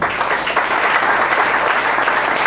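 Church congregation applauding steadily, a dense, even wash of many hands clapping at close range for the whole stretch.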